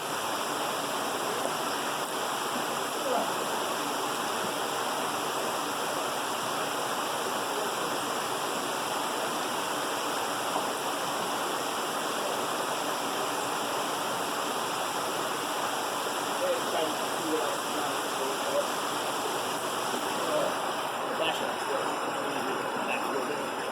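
A waterfall and stream on the upper Waimano stream, Oahu, giving a constant dense rushing roar of falling water, close and steady for the whole stretch without pause.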